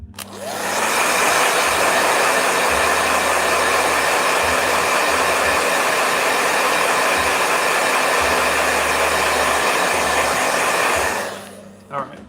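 A blow dryer runs continuously at close range, a loud steady whooshing roar with a low hum, switching on at the start and cutting off near the end.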